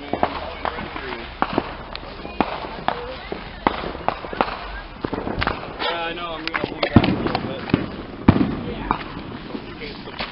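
A 48-shot Color Pearl Flower fireworks cake fires a rapid series of sharp pops and thuds with crackling bursts, while people talk nearby.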